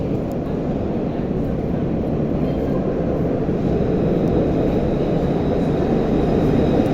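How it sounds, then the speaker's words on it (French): An RATP tram arriving at a stop in Île-de-France gives a steady, close rumble and rolling roar that builds slightly over several seconds. "il y a un tramway qui arrive"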